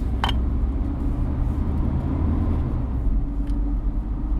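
A Comanche truck with manual steering drives along, its engine and road noise forming a low, steady rumble from inside the cab, with no talk over it.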